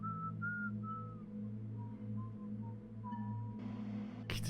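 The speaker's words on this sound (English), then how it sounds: "whistling in the background" A person whistles a short, wandering tune in the background of a Sherlock Holmes game scene, faint and intermittent over a low steady hum.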